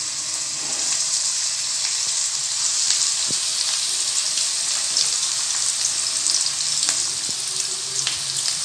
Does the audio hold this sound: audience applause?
no